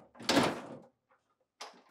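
The upper freezer drawer of a GE French door refrigerator slides forward with a close, rumbling scrape, then a short second slide or knock after a brief pause.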